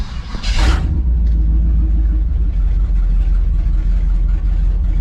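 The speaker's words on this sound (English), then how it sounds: "Now it's idling almost kind of normal." A 1968 Chevy Suburban engine idles with a deep, steady rumble, close and loud, after a brief hissing burst at the start.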